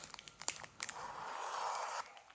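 Scissor blade drawn along gift ribbon to curl it for circus-themed birthday decorations, a quick series of soft crinkling ticks followed by a longer smooth scraping swish, quiet and close with no talk.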